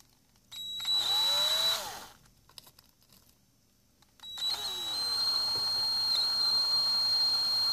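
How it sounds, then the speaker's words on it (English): A small electric hand drill whines steadily in two bursts while boring a tiny pilot hole, a high motor pitch with a short pause between, fairly close and loud. "we're going to drill a tiny little pilot hole"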